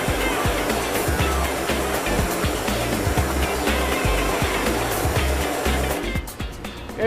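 Steady, harsh hissing of a 3,000 psi pressure washer blasting water across a printing screen, with a throbbing low pulse underneath; the spray cuts off briefly near the end before resuming.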